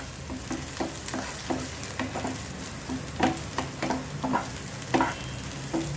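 Garlic and ginger sauté in a pan for palak paneer, a constant bright sizzle broken by a regular series of spoon scrapes and taps as the pieces are stirred.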